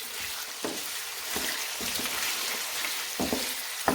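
Chicken pieces fry in oil with garlic over a medium flame, a moderate, even hiss of sizzling punctuated by several soft stirring clacks, fairly close and unaccompanied by talk.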